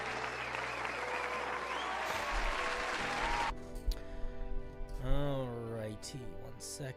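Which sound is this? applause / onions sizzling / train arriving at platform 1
applause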